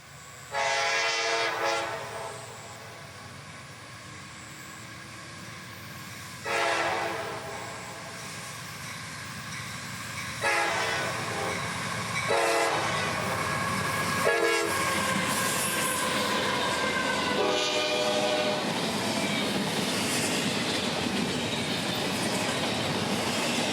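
A northbound freight train in North Florida blows several long horn blasts as it rumbles past, wheels clattering steadily and growing louder toward the end.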